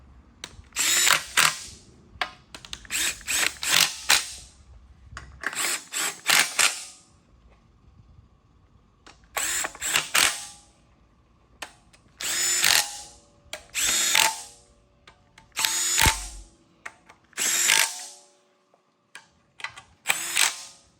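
Power tool driving and tightening bolts on a GM LSA V8 engine during assembly, heard as a series of short, loud whirring bursts with pauses between each fastener.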